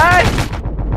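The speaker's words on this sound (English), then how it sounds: "Are the guns firing or something?" Anti-aircraft guns on a barge fire in a video game, a dense burst of loud, rapid gunfire with a ringing tone at the start, continuing as a rumbling volley throughout.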